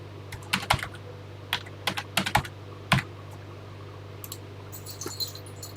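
Someone types a TI BASIC program on a computer keyboard, with irregular bursts of crisp, close key clicks over a steady low electrical hum and pauses between the bursts.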